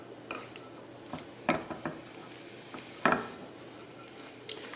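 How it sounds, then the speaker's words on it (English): Fudge melting in a pot on the stove is stirred, giving soft scraping and a few sharper spoon knocks against the metal, with a faint sizzle underneath. "I'm just stirring here"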